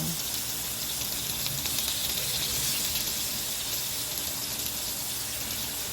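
Steady, loud sizzling and crackling of sliced tofu frying in hot oil, continuous and close up throughout.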